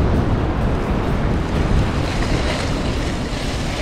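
Ocean surf washing onto a sandy beach, a steady loud roar of waves mixed with heavy wind buffeting the microphone, continuous throughout with no voices.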